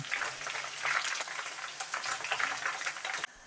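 Chicken pieces for karaage crackle and bubble in hot oil, a busy close-up frying sizzle with popping bursts that stops abruptly near the end.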